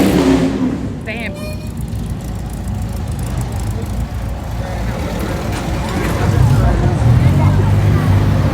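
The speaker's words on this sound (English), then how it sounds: "there's all this traffic still trying to get in" Cars queue to get into a car show, a crowd of idling and creeping engines forming a steady rumble that swells louder near the end, with people talking close by over the traffic.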